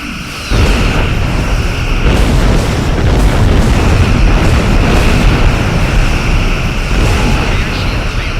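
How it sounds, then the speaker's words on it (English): Starship under attack in the Star Trek Online video game, loud continuous booming explosions and weapon impacts with a steady rumbling bed, and a voice speaking over the barrage. "Ship is under attack."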